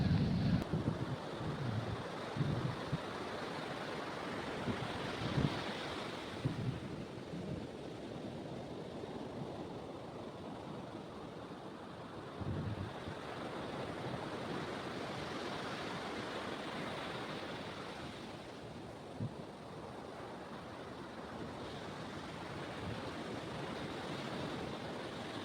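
Surf washes steadily along a beach shore near a resort, soft and distant, with gusts of wind buffeting the microphone and no voices.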